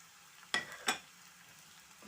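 Pounded fish fries in hot oil with reddened onions, giving two short, crackling sizzle bursts over a quiet background, fairly faint and close.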